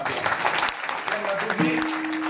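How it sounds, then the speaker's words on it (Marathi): Loud applause from a crowd at a devotional kirtan gathering, honoring two mridangam drummers, dense and continuous throughout with a tonal hum partway through. "या दोन्ही मृदुंगाच्या एकदा जोरात टाळ्या"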